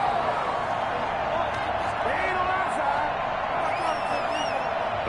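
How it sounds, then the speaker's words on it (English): A stadium crowd in the Madden 21 football video game reacts to a penalty call during a Green Bay at Chicago matchup: a constant loud roar with scattered whistles and whoops rising above it. "Well, this crowd does not like that call."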